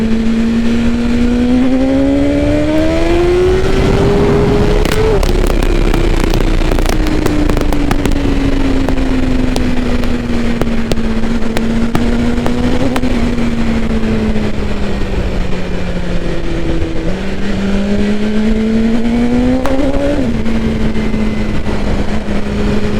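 A BMW M1000R or S1000RR sport motorcycle engine revs hard, loud and close, its pitch climbing and falling through sustained high-rpm pulls that run for the whole stretch with no talking.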